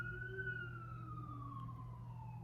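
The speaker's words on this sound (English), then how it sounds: "there goes the freaking ambulance" An ambulance siren wails past at a distance, its falling tone sliding down slowly over a low steady traffic rumble, faint and without talk.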